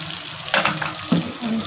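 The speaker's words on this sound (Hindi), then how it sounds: "तो सॉस के साथ 1 मिनट के लिए हम भून लेंगे।" Chicken pasta sauce with ketchup is stirred and fried in a pan, giving a close sizzling hiss with a couple of louder bursts from stirring strokes, no talking.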